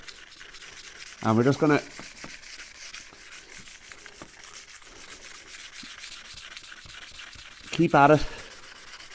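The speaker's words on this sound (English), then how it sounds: "spray this down just to provide a bit of lubrication for the 400 grit emery I have here" Hand wet sanding of car paint on a 2005 Mercedes SLK with water-lubricated 400 grit emery paper; a steady soft rubbing hiss runs throughout, with a voice speaking briefly near the start and again near the end.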